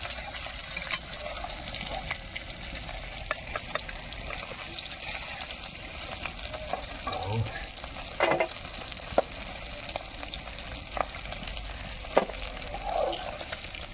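Tangra fish frying in hot oil, a steady low sizzle running throughout with scattered crackles and a few sharper pops and scrapes, fairly close.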